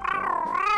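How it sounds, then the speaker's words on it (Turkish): A cartoon cat gives a single loud, close meow with a bright wavering tone as it is being fed, alone with no talk. "Ve kediciyi besleyelim."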